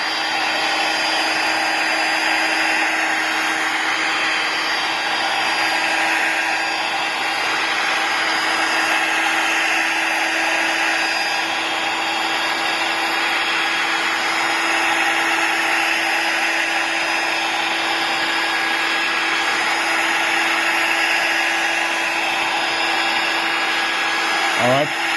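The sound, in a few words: heat gun blowing hot air around iPhone frame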